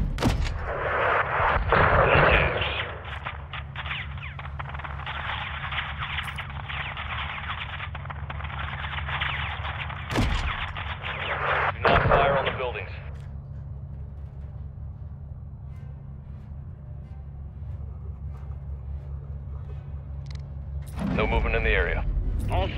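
Gunfire and artillery from an air-support attack on a convoy in Call of Duty: Modern Warfare 2, a dense roaring barrage with repeated sharp blasts over several seconds that fades into a low rumble before another burst, with radio chatter throughout.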